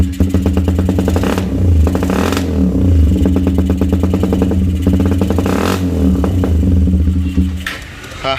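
A motorcycle fitted with a standard bass exhaust revs steadily and loudly up close, its deep droning engine note holding with small throttle swells and a brief dip near the end.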